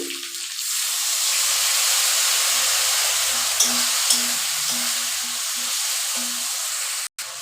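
Potatoes fried in a pan, with eggplant and spices such as cumin, dried chilli powder and turmeric added, give a steady close hiss of sizzling oil. A few brief soft clinks punctuate the sizzle partway through, and it cuts off sharply near the end.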